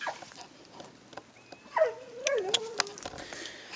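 A dog whimpers close by, with thin rising and falling whines and a few short yelps in the middle, over a faint background.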